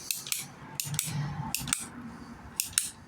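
Pipe-cutting shears snap through 32 mm PPR plumbing pipe, giving several sharp, close clicks and crunches in uneven bursts with short quiet gaps between them.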